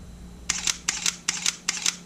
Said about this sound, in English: Ooh, listen to that shutter.